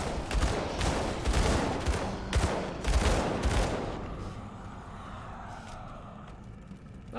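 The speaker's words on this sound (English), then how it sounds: "So I guess I'm just randomly shooting volleys." Volleys of shots in the action RPG Grim Dawn: several loud, bright broadband bursts in quick succession over the first few seconds, then a quieter tail of softer impacts and ambience.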